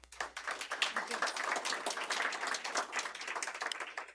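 An audience at a correctional academy graduation ceremony applauds a graduate with dense, sustained clapping, close and fairly quiet. No voices are heard.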